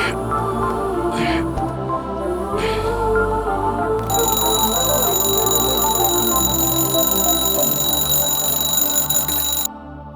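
A phone rings late at night with a steady high electronic ringtone that plays loud and continuous for several seconds, following a stretch of background sound, then cuts off abruptly.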